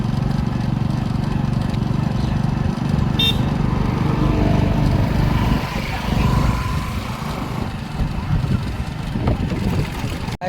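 A motorcycle engine drones steadily at close range throughout, with a constant rumble and wind noise as the bike rides along.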